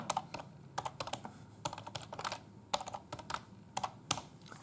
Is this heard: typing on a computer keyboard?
yes